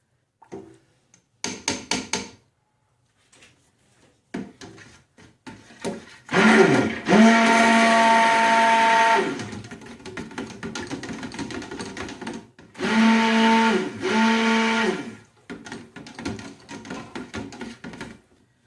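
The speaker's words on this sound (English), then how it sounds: "scrape down my sides a bit here before I start blending" Stick blender whirring through soap batter for a handmade sweet-treat soap, two loud sustained bursts of several seconds each, preceded by scraping and clattering against the container.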